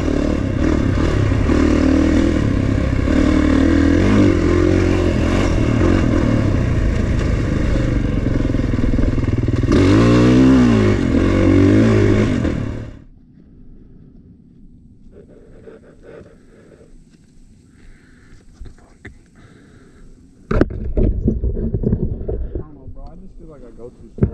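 Off-road dirt motorcycle engine roaring loud and steady for about thirteen seconds on a mound track, dropping to a quieter idle with wind noise, then revving back up near the end as it rides through dirt berms.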